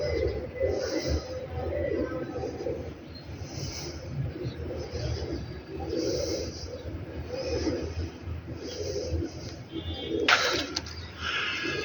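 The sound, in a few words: pigeon cooing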